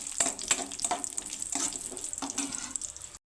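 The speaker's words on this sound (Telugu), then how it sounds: "కిస్మిస్ రెండింటిని బాగా ఎర్రగా వేయించి తీసుకోవాలి" Raisins frying in oil in a pan for rava laddu, a steady close hiss and crackle with small bursts of sizzling that stops abruptly.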